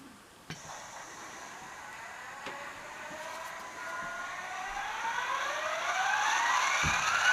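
An Atlas SD35 model diesel locomotive with a LokSound 5 decoder starts up, with a click, then a rising, whining engine tone and steady hum that grows louder over several seconds.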